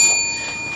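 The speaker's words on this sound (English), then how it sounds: "ding the bell. That is the time bell." A single struck time bell marks the limit at a poetry session, one clear metallic ding that rings out and slowly fades, heard up close with nothing else over it.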